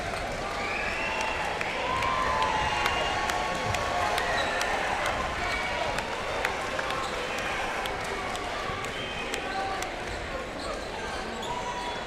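A home crowd at a high school rivalry basketball game, Grapevine Mustangs against Colleyville Panthers in Texas, claps steadily for departing seniors, sustained applause mixed with sneaker squeaks, a few ball bounces and commentators talking over it.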